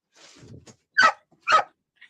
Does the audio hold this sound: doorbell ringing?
no